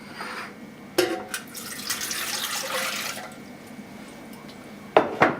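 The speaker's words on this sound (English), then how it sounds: "Pour the water into the pan." Water pours into a bread machine pan for naan dough, a steady, close liquid splash lasting a couple of seconds, framed by sharp clinks of the pan and measuring cup at the start and end.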